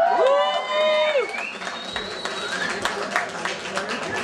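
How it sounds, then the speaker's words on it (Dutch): Audience applause greets the performer Harry Merry at a live show, a dense wash of clapping and crowd noise with a brief whistle or whoop at the start, steady and fairly loud throughout. "Uw applaus voor Harry Merry."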